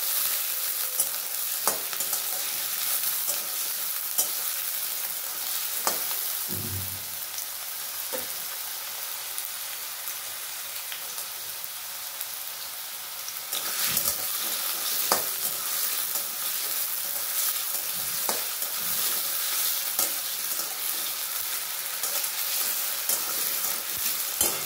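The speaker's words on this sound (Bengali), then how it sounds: "আলুটা দিয়ে ভালো করে ভেজে নেব।" Potatoes frying in hot oil in a home kitchen, a steady close sizzle throughout with occasional stirring scrapes and clatters, no talking.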